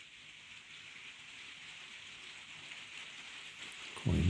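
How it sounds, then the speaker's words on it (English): Soft, steady rain patter with a constant hiss, ending in a sudden louder low thump. "Quite amusing listening to the rain falling outside."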